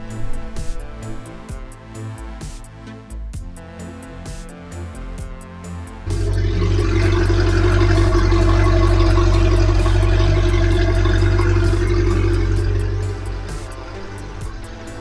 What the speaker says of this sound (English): We have water flowing, so now we're ready to start the engine.